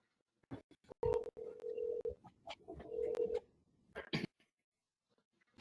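Telephone tones sound while someone is called during a remote architectural review board meeting: two sustained, fairly loud steady tones under clicks and bursts of line noise, then fading to near silence.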